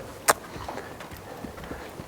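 A horse in early training walks with a soft, steady clip-clop of hooves, moderately near, with one sharp click near the start and faint background noise.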